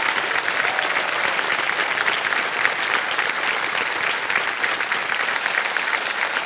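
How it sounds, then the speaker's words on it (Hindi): Applause from the studio audience on the Hindi quiz show KBC (Kaun Banega Crorepati) Season 16 after a contestant wins 6,40,000 rupees, steady and dense for the whole stretch with no voices over it. "तालियां बज जाए इनके लिए।"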